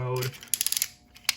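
Transformers Combiner Wars Motormaster toy joint being bent, giving a quick run of about six small plastic ratchet clicks and a final click, close and quiet, after a brief voice.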